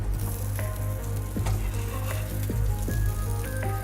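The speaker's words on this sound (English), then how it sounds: "Just going to give it a quick sear on both sides" Beef searing in butter in a hot pan, a steady close sizzle with a low hum underneath and a few sharp clicks and pops scattered through.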